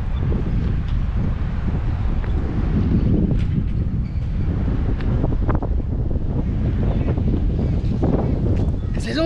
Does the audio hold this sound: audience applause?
no